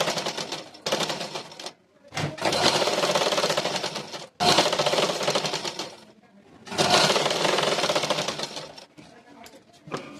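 A sewing machine stitches folded blouse collar pieces in loud, rapid bursts of several seconds each, separated by brief pauses, close up.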